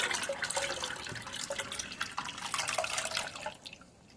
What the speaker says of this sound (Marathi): तर आता परत हे पाणी संपूर्ण गाळून घेणार आहोत आपण